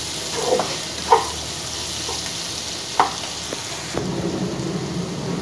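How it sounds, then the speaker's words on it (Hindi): Masala spices fry in a pan for a bitter gourd curry, giving a steady close sizzle with a few sharp clatters of stirring and no talking. "ये देख सकते हैं इसी में भून रही हूँ मैं। थोड़ा सा ये मसाला भून जाए"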